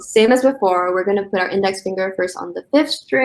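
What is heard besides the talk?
None of the usual background noises is heard.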